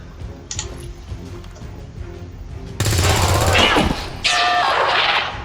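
Gunfire in the turn-based strategy game XCOM 2: after a quieter stretch, a loud sustained volley of rapid automatic shots erupts, briefly eases, then resumes for a second dense burst.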